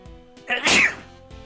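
A single sharp sneeze from a character in the Ace Attorney Investigations video game, a short breathy intake followed by a loud burst, set against quiet game background music.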